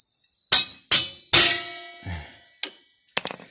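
A screwdriver pries the double kickstand spring of a Honda Wave 110i into place, producing several sharp metallic clanks and snaps close by, then a few lighter ticks.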